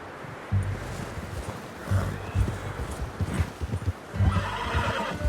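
A horse in the Red Dead Redemption 2 video game gallops with steady rhythmic hoofbeats and lets out several loud neighs and whinnies along the way, close and clear over faint rustling.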